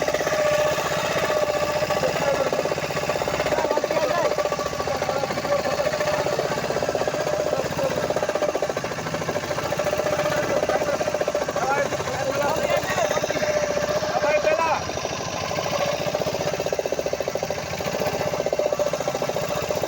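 A boat engine runs on Chilika lake with a loud, steady, continuous drone that holds throughout, and voices can be heard talking beneath it.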